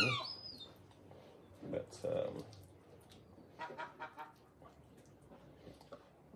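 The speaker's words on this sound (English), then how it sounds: "Donald Duck out there is making a noise." Outside, a duck gives a few loud, honking quacks in short bursts, heard at a middle distance between bits of quiet speech indoors.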